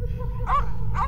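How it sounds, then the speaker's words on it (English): Two short, close barks from Cinnamon the dog in Wyndragon's Tales, evenly spaced about half a second apart over a low background rumble. "Cinnamon's barks have led you to an alleyway behind the blood bank."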